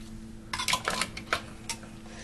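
A metal pastry blender is picked up from among kitchen utensils, producing a brief cluster of clinks and clatter over a quiet background hum.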